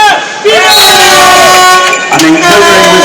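A crowd of spectators cheers and applauds at an under-17 men's European water polo match between Romania and Lithuania, a loud continuous roar with horn-like tones running through it.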